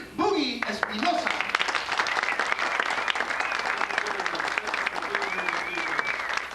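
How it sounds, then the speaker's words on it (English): An audience applauds a musician at a Gold Rush songs and stories show, dense steady clapping swelling in after a voice and running on evenly to the end. "Please, a round of applause for Rick Boogie Espinosa."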